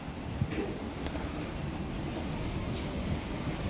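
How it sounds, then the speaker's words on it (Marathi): A strong, dusty wind blows outdoors beside a road, producing a continuous broadband rush and buffeting against the microphone that holds steady throughout, with no speech. "आणि एवढं वारा जोरात आहे त्याच्यामुळे आम्ही आउटर तर बंद केलं"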